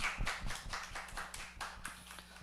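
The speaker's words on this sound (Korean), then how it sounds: "우리 큰 박수로 축복하겠습니다." Faint clapping from a church congregation during a Sunday worship service, a string of soft, fairly regular hand claps heard from some distance with no talking.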